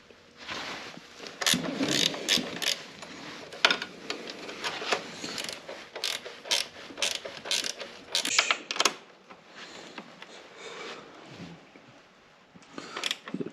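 A socket wrench ratchets in short, uneven bursts of clicking while bolts come out of the rear fender of a 2024 Kawasaki ZX6R during a fender eliminator kit install. The clicks are close and crisp over a quiet background, with brief pauses between runs.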